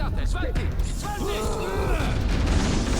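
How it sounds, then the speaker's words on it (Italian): Armored blast doors in a Halo video game grind and creak shut with a loud, sustained mechanical groan and scraping metal, heard up close. "Bloccate quelle porte blindate!"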